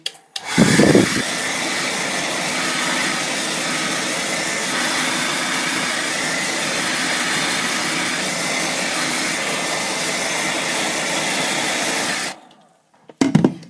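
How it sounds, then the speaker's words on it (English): A Pro Blo hair dryer blows hot air onto hair, giving a loud, steady whooshing roar that runs unbroken for about eleven seconds, then cuts off, with a brief burst of noise just before the end. "And then take your hairdryer. This is going to get noisy now"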